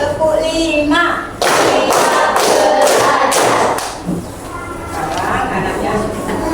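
Children in a classroom clap their hands together in a counting clap game, a dense burst of close, overlapping claps lasting a few seconds, with voices before and after.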